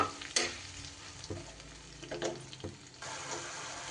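A ground spice paste fries in a pan for a vegetarian cabbage dhokar dalna, hissing and crackling while a utensil stirs it, with scattered scrapes and clinks over a low, steady sizzle.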